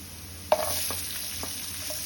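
Onion and capsicum hit hot oil and get stirred, starting with a sudden burst of sizzle that settles into a steady crackle, with a few light scrapes of the spoon.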